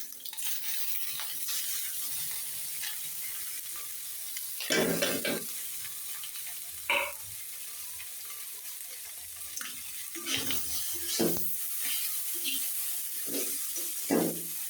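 Potatoes, tomatoes, onion, ginger and garlic frying together in a pan, a steady low sizzle with scattered scraping and stirring bursts of the spatula, close and moderate in level.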